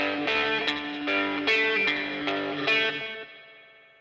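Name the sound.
music with added RE201 tape echo reverb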